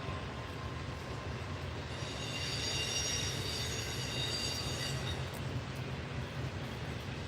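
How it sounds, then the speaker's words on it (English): A train rolls along a railway line near a barn, a steady rumble of cars with brief wheel squeal in the middle, fairly distant and even throughout, with no voices. "there's trains around the clock on the H line, on the line that this train is stopped on right now"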